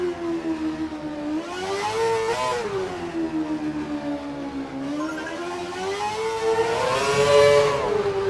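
A Formula 1 car engine on a wet track in the racing game F1 2012 whines steadily, its pitch rising and falling through corners and climbing loudly near the end, alone without speech.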